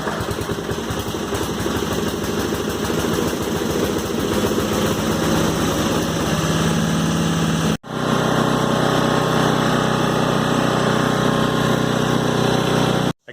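A John Deere R92 riding tractor with a Briggs and Stratton 11hp engine runs loud and close after a choked cold start, its light engine buzzing steadily, then abruptly changes pitch and runs on before cutting off at the end.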